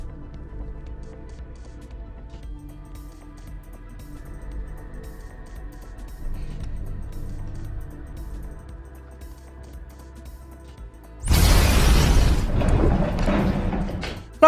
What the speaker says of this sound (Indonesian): Namun tiba-tiba ledakan pun terjadi.